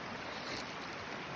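Water of Spirit Creek near a campsite with a fire ring, a steady close rushing wash that fills the short stretch without any voices.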